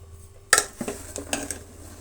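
A spoon knocks and scrapes against a metal pot while sweet payasam is stirred, a sharp clatter followed by several lighter taps close up, with no voices.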